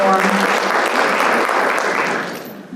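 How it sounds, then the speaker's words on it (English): Loud crowd applause for a moderator and panelists at a policy forum, dense and sustained, tapering off slightly at the end. "Can we give one more round of applause for our moderator and panelists"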